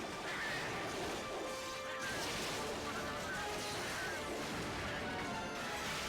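Water attack of Mizutsune, a monster in the game Monster Hunter XX, rendered as a steady, loud rushing and crashing blast with splashing surf-like texture that runs the whole time.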